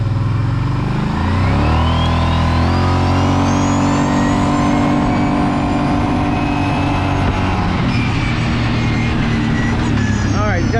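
Off-road vehicle on BigHorn 3.0 tires revving and accelerating along a muddy trail toward a mud spot, engine loud and close throughout with rising and falling pitch as it gains speed, under wind and driving noise.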